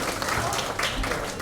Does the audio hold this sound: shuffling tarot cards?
no